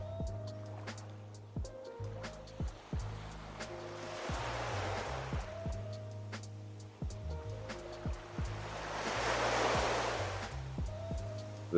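Beach waves swell and crash in slow, cyclic surges, two broad rushes of surf rising and falling beneath steady calm music.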